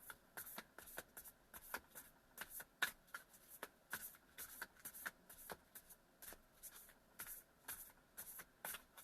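Tarot cards are shuffled close to the microphone, a quiet series of rapid crisp riffles and flicks repeating in an uneven rhythm.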